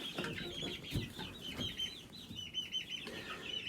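Chickens and roosters cluck steadily on a farm, with several birds overlapping in a busy, close chorus and a few louder calls standing out, plus some low thumps and movement in the background.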